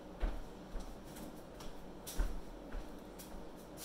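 A magnetic mechanical tea timer being wound, its quiet ticking and a few sharper clicks spaced irregularly through a soft, faint background.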